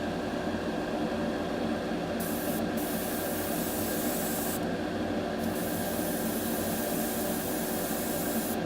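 A steady hiss of aerosol spray primer being applied to a model runs close and unbroken for several seconds, with brief pauses in the high hiss.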